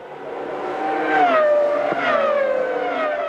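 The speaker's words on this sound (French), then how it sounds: "Berger prend un excellent départ et s'engouffre en tête dans le premier virage devant Fisichella." Formula 1 cars at the start of the 1997 German Grand Prix, several high, whining engines rising and sliding in pitch together as the pack accelerates, loud and continuous with no voice.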